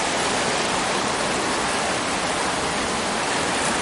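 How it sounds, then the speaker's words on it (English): Creek water flows briskly past a mucky, slimy shore, producing a loud, steady broadband rush that stays constant and close throughout with no other sounds. "the water's moving pretty good"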